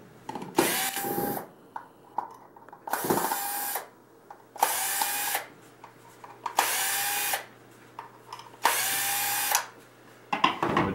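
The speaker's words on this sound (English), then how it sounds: "I've attached it to my cordless drill, which makes it an awful lot easier" A cordless drill whirs in five or six short bursts with pauses between them, close and loud, while six screws are driven out of a Jobe Topaz valve.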